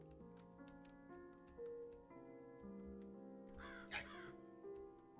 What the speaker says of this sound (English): There were crows outside the window.